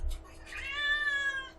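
A house cat meows once, a drawn-out, close and fairly loud cry that rises and then fades over about a second, with no talk over it.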